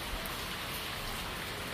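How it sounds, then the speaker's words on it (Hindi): Heavy rain pours down outdoors in a dense, steady hiss of countless drops, loud and close, with no voices. "देखिए गाइस कितनी जबरदस्त बारिश आ गई है, बारिश आ रही है"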